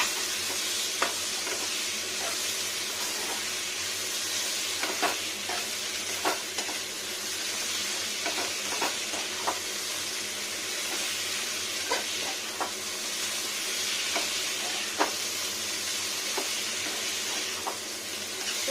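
Pumpkin stalks frying in a pan with cumin powder, a steady sizzle with intermittent scraping clicks of stirring throughout, close and moderately quiet.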